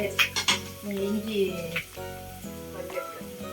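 Curry leaves dropped into hot oil, a brief crackling sizzle under a voice as pans clink nearby in a home kitchen.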